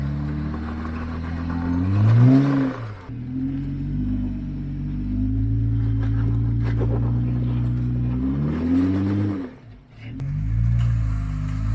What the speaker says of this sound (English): So Paul did a great job of getting this Gladiator to this section.